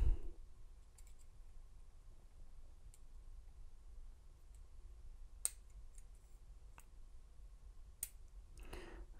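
A Yale Y1 Lishi-style pick tapping a lock pin produces a few faint, sharp clicks spaced irregularly over a quiet, hissy background.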